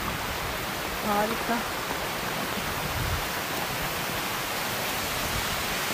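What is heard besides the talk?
waterfall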